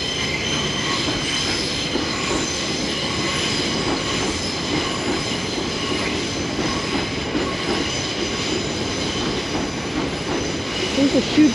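A train pulls into London Fenchurch Street station, a continuous loud rumble of wheels on rails with a high squeal and steady mechanical hum throughout.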